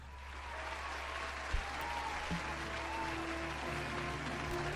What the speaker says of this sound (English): multiple echoes of applause manifested themselves from the opulent crowd below.